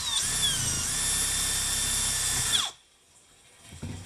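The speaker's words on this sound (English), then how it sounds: "Drill a hole for that to go through." Power drill boring a hole for an air conditioner fix, a loud, steady high whine held for about two and a half seconds before it winds down and stops, followed by near silence and faint handling noises.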